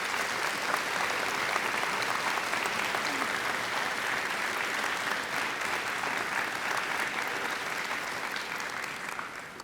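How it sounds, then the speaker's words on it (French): An audience applauds at a college graduation ceremony in a hall, a broad sustained roar of many hands clapping steadily for nearly ten seconds at moderate level, with no speech. "je vous demande de leur donner une main d'applaudissement pour le beau travail qu'ils font pour notre province"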